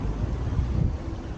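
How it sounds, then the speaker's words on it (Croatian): Strong bora wind gusting on the coast at Vodice, a loud rumbling roar of buffeting against the microphone with rising and falling gusts throughout. "Sunčanih vodica sa orkanskom, s orkanskom burom"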